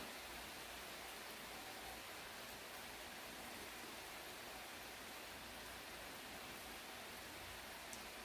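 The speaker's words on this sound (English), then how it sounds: "So, nice rain today. I'm enjoying the sounds of it." Rain falls as a soft, even hiss that stays constant throughout, faint and distant, with no voices.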